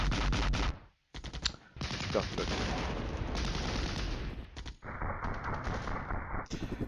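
Gunfire from the Cold War tactical wargame Flashpoint Campaigns, with autocannon and missile fire in the battle, rattles in loud, dense bursts almost continuously, broken by one short gap early on. A brief voice is heard.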